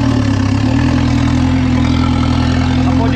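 A tractor engine runs steadily at a near, loud idle, with a constant low drone and a firm harmonic hum, while the tractor is steered on a field with its brake and differential in use.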